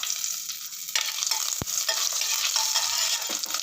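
Curry leaves hit hot oil in a frying pan for one-pot peanut rice, giving a steady, close sizzle with stirring and a single dull clunk midway. No one speaks.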